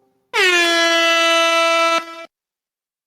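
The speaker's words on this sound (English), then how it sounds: "Did you just air horn yourself, Omega?" One long, blaring air horn sound effect, a loud buzzy tone held steady for nearly two seconds before cutting off abruptly, alone in silence.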